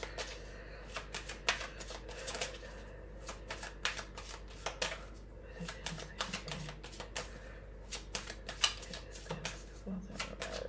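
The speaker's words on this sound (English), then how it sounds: "I'm going to pull some more cards here." Tarot cards shuffled and pulled by hand, with rapid flurries of crisp riffling and slapping taps in irregular bursts, close and fairly quiet over a low steady hum.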